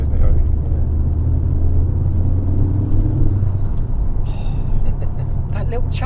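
A Ford Focus RS MK2 engine at full throttle in second gear from low speed, a deep, loud, steady rumble with a rising drone, heard from inside the car with brief chattering noises near the end.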